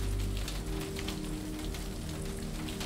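Steady rain pattering on a surface around a houseboat, a dense continuous hiss with faint low rumble underneath, close and even throughout with no voices.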